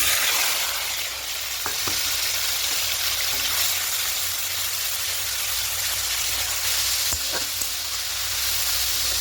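Onion and tomato paste hit hot oil already holding whole cardamom, cloves and a piece of cinnamon, for a Bengali katla fish kalia cooked without ginger or garlic: a steady, close sizzle with a few brief clinks of a spoon.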